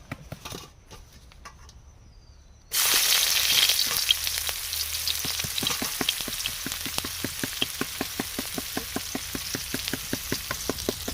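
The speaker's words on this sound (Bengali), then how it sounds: "তেল গরম হয়ে গেছে কলমি শাকগুলো ভাজার জন্য দিয়ে দেবো" Water spinach (kalmi shak) dropped into hot oil in a wok, bursting into a sudden loud sizzle that settles into steady crackling with rhythmic spattering pops, close and without voices.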